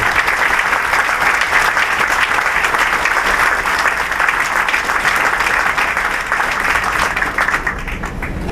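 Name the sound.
audience applause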